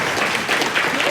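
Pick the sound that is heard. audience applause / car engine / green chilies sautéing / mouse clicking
audience applause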